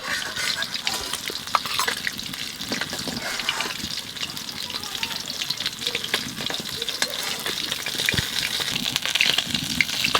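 Pabda fish frying in oil in a wok, a steady close, dense sizzle and crackle of hot oil continuing throughout without talk.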